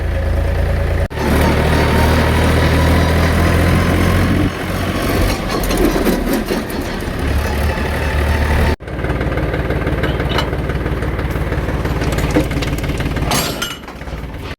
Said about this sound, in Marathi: दादांचं ट्रॅक्टर आहे बघा